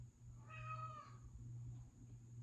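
A single cat meow, a short tonal cry in a quiet room over a low steady hum, with no talking around it.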